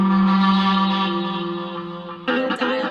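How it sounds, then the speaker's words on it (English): A guitar effects pedal, the Sound Stone, runs its Fat Sugar reverb, giving a loud, sustained harmonic tone with a long, washy tail and a fresh swell near the end. "Throw in the Fat Sugar reverb here."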